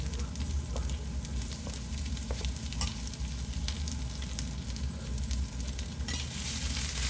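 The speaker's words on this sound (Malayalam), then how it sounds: "കടുക് പൊട്ടുന്ന സമയത്ത് അരിഞ്ഞു വെച്ച വെളുത്തുള്ളിയും ഇഞ്ചിയും എല്ലാം കൂടി" Chopped garlic and ginger fry in hot sesame oil with popping mustard seeds for an Onam lime pickle, a steady close sizzle with crackles and occasional stirring scrapes.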